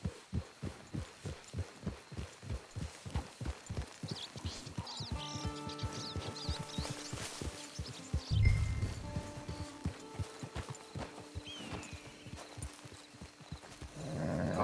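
Horse hooves clip-clop in a steady rhythm in Red Dead Redemption 2, a clear near trot through the first half that fades under music and ambient game sounds, with a brief louder thud midway.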